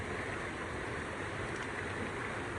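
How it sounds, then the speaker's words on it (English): A forest waterfall in Vietnam rushes in a faint, constant broadband hiss of falling water, steady and unbroken, with no voices. "Finally, we reached the waterfall."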